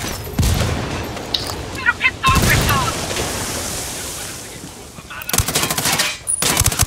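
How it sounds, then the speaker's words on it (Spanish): Machine gun fire in the Ghost Recon shooter game: loud, sustained automatic bursts rattle continuously, with a sharper rapid volley near the end and voices shouting over the shooting. "Qué horrible que es esta metralleta"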